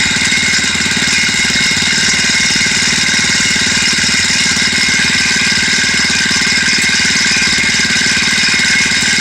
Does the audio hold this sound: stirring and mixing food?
no